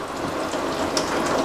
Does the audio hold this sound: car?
no